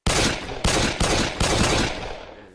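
Pistol gunshots in a Minecraft police-themed mod: about four loud, sharp shots at uneven intervals, close and punchy, each followed by a brief ringing decay, with no talking.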